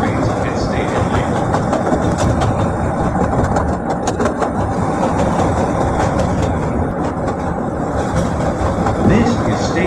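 A CTA Orange Line Budd 2600-series rapid transit car, simulated in Roblox, rolls along with a continuous rumbling rattle and faint clickety-clack, while automated station announcements play over it.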